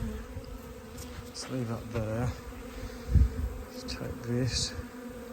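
Honey bees swarming off a house roof buzz close by, individual insects droning past with rising and falling pitch over a busy background hum, while a person speaks briefly.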